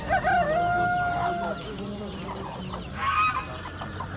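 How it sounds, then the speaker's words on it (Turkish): American blue rooster at a poultry market gives a loud crow up front, followed by a second shorter call after a pause, with market chatter underneath. "Amerikano mavi horoz."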